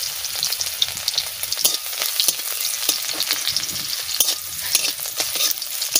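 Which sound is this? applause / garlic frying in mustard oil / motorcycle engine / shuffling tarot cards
garlic frying in mustard oil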